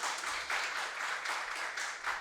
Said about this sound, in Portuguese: Uma salva de palmas efusiva.